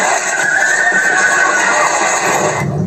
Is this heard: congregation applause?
no